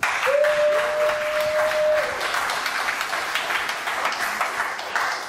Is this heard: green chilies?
no